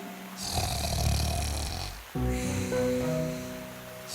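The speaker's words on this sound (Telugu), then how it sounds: "ఎంత గట్టిగా గురక పెడుతోందంటే చెట్టు ఆకులు కూడా కదులుతున్నాయి." A wolf in a cartoon fairy tale snores loudly in two long, rumbling snoring breaths with a brief pause between them, close and alone with no talking.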